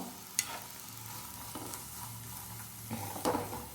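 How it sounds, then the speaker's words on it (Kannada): Cabbage and capsicum fry in a pan for restaurant-style chicken fried rice: a faint, steady sizzle with a few sharp scrapes and clinks as the vegetables are stirred, and no voices. "ಸ್ವಲ್ಪ ಕ್ಯಾಬೇಜು, ಸ್ವಲ್ಪ ಕ್ಯಾಪ್ಸಿಕಮ್ ಹಾಕಿ ಇದನ್ನು ಫ್ರೈ ಮಾಡಿಕೊಳ್ಬೇಕು"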